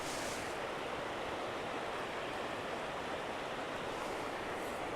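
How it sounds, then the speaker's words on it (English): A creek flows near Lower Falls in July, giving a steady broadband rush of water that holds even and unbroken throughout, with no voices over it. "I'm just going to quickly show you the creek here so you can see the first"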